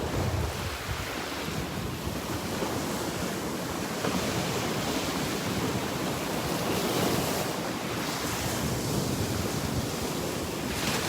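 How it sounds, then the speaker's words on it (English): Steady roar of surf from the Gulf of Mexico washing against a rock jetty on Marco Island, Florida, with constant wind buffeting the microphone throughout. "the waves breaking on the jetty"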